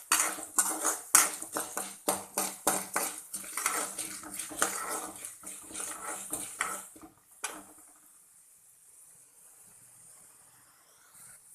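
Pepper, coriander seeds, chana dal and urad dal roasting in a pan, with dense clinking and scraping of a metal spoon stirring for about seven seconds, then a quiet low hiss from the pan.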